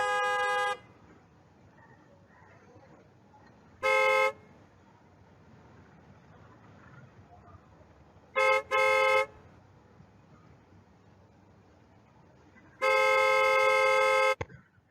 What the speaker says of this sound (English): When the horn is pressed like this, the car horn, you say a car honks.